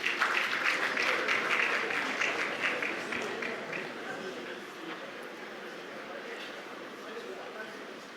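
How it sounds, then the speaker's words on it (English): Audience applause for Nigeria's Minister of Industry, Trade and Investment, Dr. Jumoke Oduwole, as she joins a panel at the Afreximbank 2025 annual meetings; dense clapping starts full and gradually thins while a voice speaks over it. "Please give her a round of applause."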